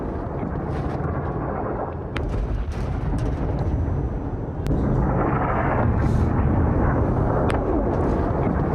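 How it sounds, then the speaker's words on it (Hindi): Deep, rumbling blasts from an Israeli attack on Iran roll one after another through a constant low roar, with a few sharper cracks standing out; a heavy, distant-sounding barrage. "एक साथ कई धमाके हुए"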